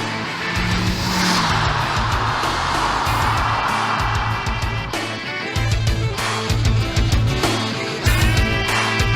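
A Toyota MR-S with a TTE turbo kit drives along a back road, its engine loud and close throughout, revving and shifting with rising and falling pitch, no talking heard.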